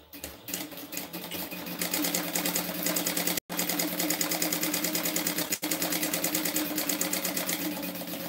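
A Juki DU-1181 industrial sewing machine stitches car trash cans in a fast, even mechanical rattle, running loud and close with two brief stops.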